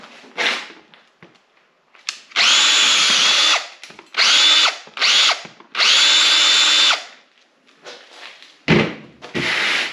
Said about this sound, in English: Half-inch drill bit.